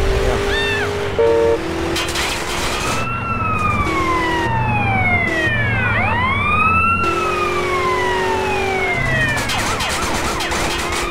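Loud wailing police sirens from Grand Theft Auto: San Andreas rise and fall repeatedly, several overlapping tones sweeping up and down with engine noise underneath, no talking.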